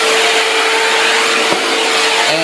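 A Shark vacuum mop runs with a steady motorized hum and broad whirring noise, continuous, close and loud, working on a floor.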